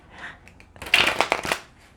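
A tarot card deck shuffled by hand: soft papery rustles build into a louder, close burst of riffling and slapping cards for about a second, then fade.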